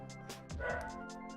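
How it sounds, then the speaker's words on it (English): Several dogs barking and yipping excitedly in a home, short repeated barks at moderate distance with a faint voice behind them. "there go my dogs, going crazy"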